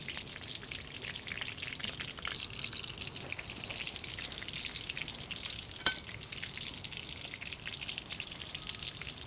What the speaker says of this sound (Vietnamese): Đây tôi chiên lần thứ hai các bạn.